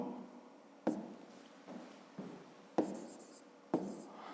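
A pen writes on paper in short scratchy strokes with a few sharper taps between them, close and fairly quiet.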